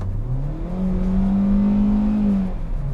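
A 2020 Hyundai Venue with an IVT transmission accelerates, its engine droning in a steady rising hum that dips slightly as a simulated gear ratio kicks back, then climbs again.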